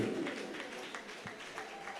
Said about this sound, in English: round of applause for everybody, please